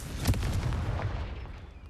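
A fire-blast spell explodes in the video game Hogwarts Legacy, a loud booming burst with several rumbling pulses in its first second that fade out over the next moment. No voices are heard.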